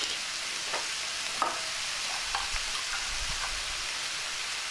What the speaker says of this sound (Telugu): దాదాపు 5-6 నిమిషాల పాటు సిమ్లో పెట్టి ఫ్రై చేయండి.